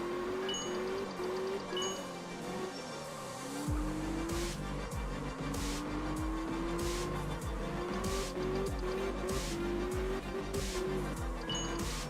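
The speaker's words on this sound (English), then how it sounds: "Getting the car nice and slidey here." Engine revving and tires squealing loudly and steadily as a car drifts and slides through corners in the racing video game Absolute Drift, with rising and falling engine pitch and repeated gear-shift thumps.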